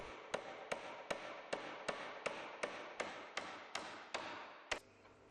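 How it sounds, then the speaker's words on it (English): Galvanized roundhead nails are driven into timber floor joists at the wall plates, a dozen evenly spaced sharp hammer blows ringing close and clear, with no talk. "Secure the timber joists at both ends of the floor to the wall plates with galvanized roundhead nails."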